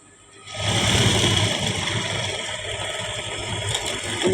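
A sewing machine whirs steadily as it stitches a blouse, a close continuous mechanical hum that starts abruptly and runs without a break.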